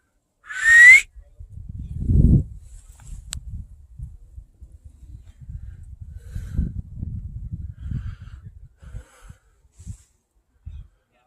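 A person gives a single short, high whistle outdoors while crouched behind a bush, followed by footsteps and rustling in the brush at close range.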